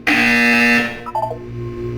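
Buzzer from the video game Portal 2, a loud, harsh tonal blast lasting under a second, followed by a short stuttering electronic tone and a lower hum.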